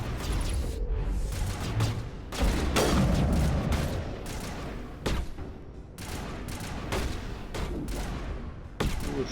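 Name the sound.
gunfire in a video game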